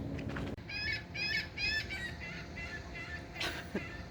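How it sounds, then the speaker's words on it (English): A seagull calls in a run of harsh, repeated squawks, fairly close and loud, with a broadband outdoor wash behind it and a few other bird sounds around. "You hear that seagull? It's going crazy."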